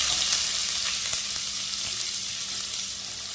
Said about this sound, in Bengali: আর লাল করে একটু ভেজে নেব